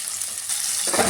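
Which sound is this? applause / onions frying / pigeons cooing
onions frying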